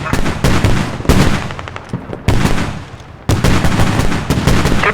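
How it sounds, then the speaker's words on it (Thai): Loud, close bursts of artillery fire in the game Squad, several rapid volleys of booming shots separated by brief pauses. "มันเป็นปืนใหญ่แล้ว"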